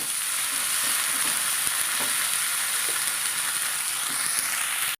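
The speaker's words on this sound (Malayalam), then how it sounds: "സവോള ഇട്ട് കൊടുക്കാം കുറച്ച് ഇഞ്ചി വെളുത്തുള്ളി പേസ്റ്റ് ചേർത്ത് കൊടുക്കാം ശേഷം ഉപ്പും ഇട്ടിട്ട് നന്നായിട്ടൊന്ന് വഴറ്റാൻ നമുക്ക്" Onion sautéing with ginger garlic paste and salt for a Kerala chilli curry, a steady, close hiss of sizzling oil with faint stirring clicks, continuous and fairly loud until it cuts off abruptly.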